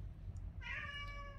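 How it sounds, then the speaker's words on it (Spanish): A house cat that wants to go outside gives one clear, drawn-out meow over a low indoor hum, fairly close and alone. "Perdón por mi gato, está chille chille porque quiere salir."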